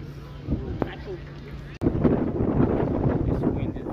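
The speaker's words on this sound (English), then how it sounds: "This wind is very, very strong" Strong wind buffets the microphone at an AFLW football match, Essendon Bombers versus West Coast Eagles, with a continuous rough roar, loud and gusty throughout.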